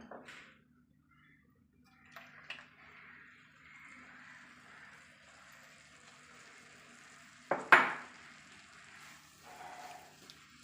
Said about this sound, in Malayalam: ഇനി നമുക്ക് ഇതിലേക്ക് ശർക്കരപ്പാനി ഒഴിച്ചു കൊടുക്കാം